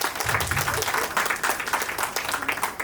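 An audience at a farewell and Hindi Diwas celebration claps together, a dense and fairly loud round of applause that holds for the whole stretch, with a few voices faintly underneath.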